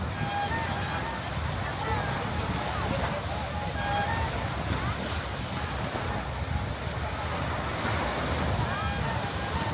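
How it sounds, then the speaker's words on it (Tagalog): Strong ocean waves on a beach, a constant loud roar of surf with wind buffeting the microphone throughout. "Lakas ng waves kaya."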